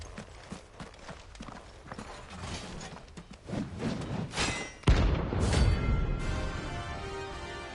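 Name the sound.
horse hooves clip-clopping in Final Fantasy video game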